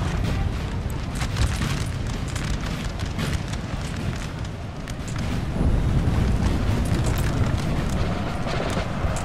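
Musket and cannon fire from a Napoleon: Total War battle rolls on continuously, a dense crackle of distant volleys over deep booming rumbles at steady loudness, with no voices.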